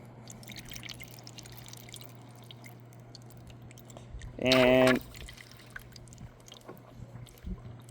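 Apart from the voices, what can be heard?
water poured down a car sunroof drain tube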